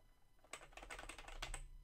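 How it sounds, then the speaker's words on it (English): Keys on a computer keyboard are pressed in a quick run of soft clicks, close but quiet, with no voices. "So when I press my keyboard here,"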